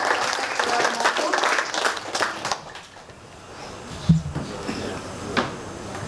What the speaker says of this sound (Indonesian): kita beri aplaus kepada Bapak Mokun